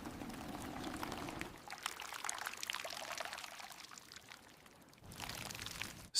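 Deep ocean epoxy resin pours onto a floor in a soft, steady liquid stream that stops and starts again, faint and close, with no voices.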